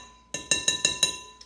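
A utensil stirring jerky marinade in a bowl clinks against the side five times in a steady rhythm, with one faint tap after a short pause, close and alone.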